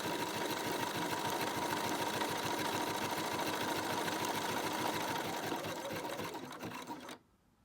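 A sewing machine stitches straight along a fabric bag handle, running as a close, steady rapid mechanical whir with a fast rhythmic thump that holds for several seconds, then stops abruptly near the end.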